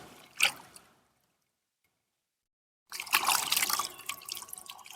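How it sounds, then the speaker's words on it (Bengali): Pumpkin leaves are rinsed under running water, with a short splash, a quiet pause, then a longer stretch of close splashing and trickling as the leaves are handled in the stream. "পাতাগুলোকে তুলে নিয়ে এসে খুব ভালো করে ধুয়ে নিচ্ছি।"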